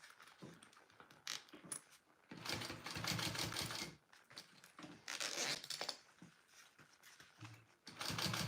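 A sewing machine stitching a Rick Rolltop Petite backpack in short bursts of rapid mechanical whirring, separated by pauses filled with fabric rustling and small handling clicks, fairly close and alone.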